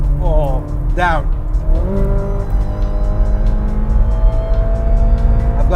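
A Ferrari 458 running at speed in sixth gear, its engine droning loudly and steadily with quick rising revs during downshifts and a brief tire-like squeal early on, heard close from inside the cabin.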